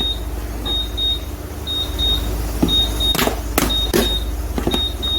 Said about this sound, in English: Sorry about the alarm.